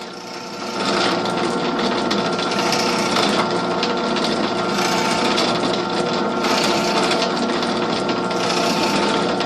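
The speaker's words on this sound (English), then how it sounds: "You can drill as many holes as you like." A steady, loud mechanical whirring runs almost continuously as a drill bores holes in a wooden fiddle plate, with no pauses and no talking.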